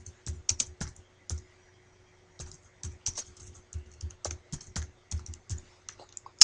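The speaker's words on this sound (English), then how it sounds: "I want to type it correctly and hit enter on my keyboard" Typing on a computer keyboard while writing C# code in Visual Studio 2012, heard as bursts of close, crisp key clicks with short pauses between them and no voices.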